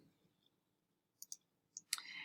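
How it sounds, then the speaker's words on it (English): Computer mouse clicks in a quiet room, a few sharp, faint clicks in quick succession followed by a slightly louder click and brief rustle. "And then you just click post."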